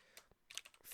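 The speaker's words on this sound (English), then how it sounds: "I need to type this out." Quick, faint taps on a computer keyboard, a short burst of several uneven keystrokes that grows a little louder toward the end, close to the mic.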